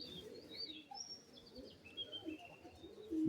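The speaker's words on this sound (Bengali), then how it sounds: "এই একটা মাদা রেসিং পায়রা, এটা বেলজিয়ামের পায়রা, ব্লু চেকার বলে।" A female Belgian blue checker racing pigeon, hatched in 2018, gives soft, faint coos alongside a few thin chirps in a quiet setting.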